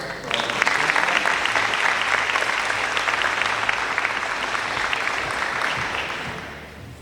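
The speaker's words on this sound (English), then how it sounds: "Can we have another round of applause?" A round of applause at a teacher-of-the-year breakfast, sustained even clapping from a large room that holds steady for several seconds before tapering off at the end.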